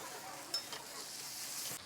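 A brief burst of masala for tomato chutney sizzling in a pan as a spoon stirs through it, close and steady with a couple of light scraping taps.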